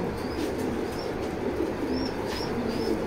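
A racing pigeon coos several times, soft and close, over a dense, steady background hum.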